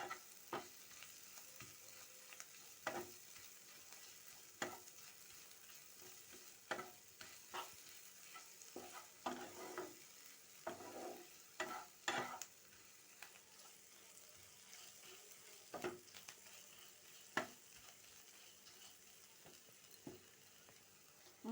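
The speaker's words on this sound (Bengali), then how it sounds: "তা আবার 2 থেকে 3 মিনিট ভালো করে আবার কষে নিতে হবে" Spice masala stirred and fried in a pan in a home kitchen, soft continuous sizzle with repeated scraping strokes of a spoon, fairly quiet and close, no talking.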